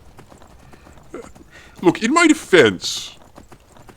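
Horse hooves clop along in an audiobook scene, a steady patter of hoofbeats under a narrator who speaks over them in short, loud bursts.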